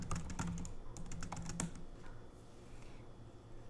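Short flurry of computer keyboard typing, quick clicky keystrokes, fairly quiet and close, fading after a couple of seconds.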